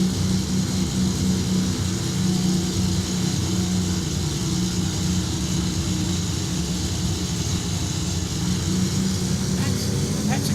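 Simulated aircraft traffic in the X-Plane 11 flight simulator at Kelowna, BC, a steady broadband engine and jet roar that holds without a break at moderate level, with voices faintly present beneath.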